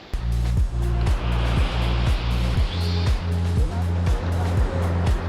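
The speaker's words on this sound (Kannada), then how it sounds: "ಮತ್ತು ಅಲೆಗಳೆಲ್ಲ ತುಂಬ ಜೋರಾಗಿ ಬರ್ತಿದೆ." Ocean waves on a black sand beach in Goa roar in a dense, continuous wash, with a rhythmic low thumping pulse running steadily underneath.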